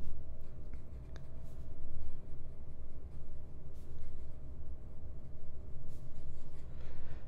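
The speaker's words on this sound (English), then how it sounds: "I put the cartridge in this and it started writing right away" A Stabilo Grow fountain pen with a medium nib lays down blue ink from its cartridge, a continuous soft scratching and gliding on paper with small taps. It sounds close and steady, with no talk.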